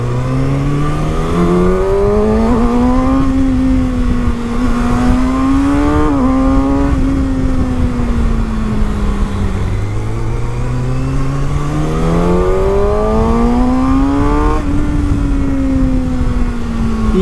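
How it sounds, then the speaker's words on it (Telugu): A Kawasaki ZX-6R four-cylinder motorcycle engine revs loud and close, its pitch climbing and falling in repeated sweeps with brief throttle blips between. "బైక్ పవర్ఫుల్ అండ్ అలానే ట్రాక్లో కూడా చాలా బ్యూటిఫుల్ మెషిన్ ఇది."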